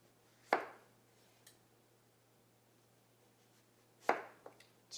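A knife chops through a raw turnip on a cutting board in two sharp, close thuds a few seconds apart, with quiet room hiss and a faint tap between them.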